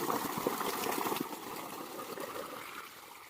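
Steady rushing water pours and splashes continuously from a 5 HP water pump motor, a dense gushing flow with no voices.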